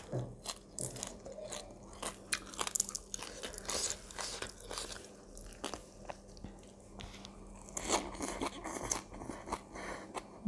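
Crunchy bites and chewing of crispy deep-fried fish eaten with chili dip, close and loud, with steady irregular crackling crunches throughout.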